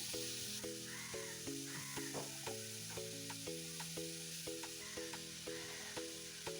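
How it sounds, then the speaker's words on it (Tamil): Water with turmeric and chili powder bubbles and sizzles steadily in a pan, with a repeating tonal melody playing in the background. "இது நல்லா கொதிக்கட்டும்"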